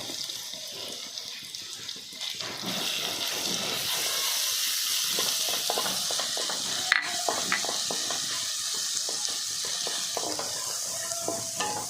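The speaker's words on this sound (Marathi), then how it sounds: "आलं लसूण थोडंसं परतायचं आहे" Ginger and garlic sizzle in hot oil in a pan for dhaba-style dum aloo, a steady broadband frying hiss with scattered stirring clicks and scrapes, close and continuous with no talk.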